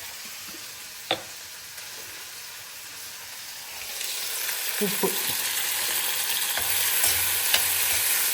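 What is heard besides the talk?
onion, garlic, curry leaves and fennel sautéing in a pan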